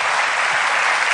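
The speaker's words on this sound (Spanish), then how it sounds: "alabe al Señor con ese aplauso fuerte" A church congregation gives a loud burst of dense, continuous applause, many hands clapping together at once.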